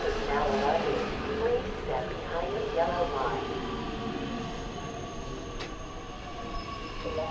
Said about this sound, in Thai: รถไฟกำลังเข้าสถานีแล้วครับเอกลักษณ์หนึ่งของรถไฟที่อเมริกาก็คือจะมีเสียงกระดิ่งเวลา